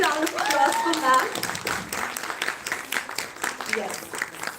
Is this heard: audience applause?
yes